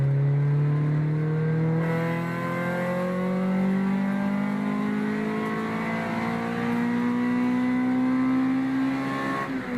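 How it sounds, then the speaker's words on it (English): A Honda VTEC engine revs steadily higher through the gears, its pitch climbing in a sustained, loud, close-up whine with no talking. "you could squeeze so much power out of these little VTEC engines and so much sound"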